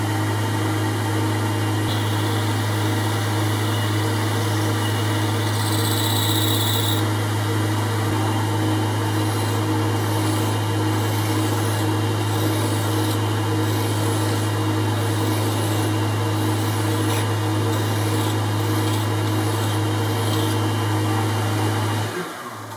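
Metal lathe with a turning chuck cutting a chamfer inside a bore for an ER20 collet holder spindle; a steady loud motor hum and whine runs throughout, with brief brighter cutting noise in between.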